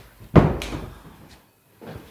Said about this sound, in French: je vais fermer la porte qui s'est ouverte